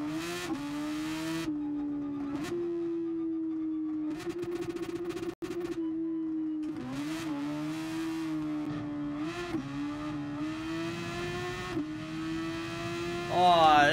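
Engine note of a car in the GT Sport racing game, loud and continuous, rising and falling through repeated revs and gear changes, with a brief dropout midway and a surge at the end.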